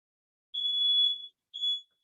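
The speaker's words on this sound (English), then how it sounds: "Oh my God, the fire alarm." A fire alarm goes off indoors during a lecture, sounding two shrill electronic beeps in a row, the first long and the second shorter, loud with no other sound around them.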